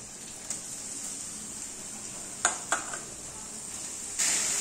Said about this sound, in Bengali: নুন দিয়ে সেদ্ধ করা মোচাগুলো কড়াইতে দিয়ে দিচ্ছি।